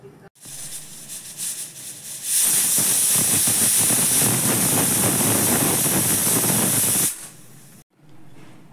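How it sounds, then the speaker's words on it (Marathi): A small pressure cooker on a mutton trotters soup lets out a loud, sustained hissing whistle of escaping steam for several seconds, rising abruptly and cutting off, with quieter kitchen noise before and after. "आता याला आपण झाकण लावून शिट्ट्या काढून घेऊया।"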